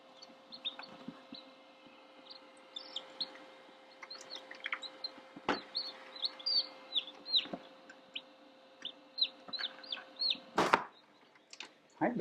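Newly hatched baby chicks peep in a brood, a scatter of thin, high chirps at moderate distance, growing busier toward the end, with occasional soft knocks and faint background noise.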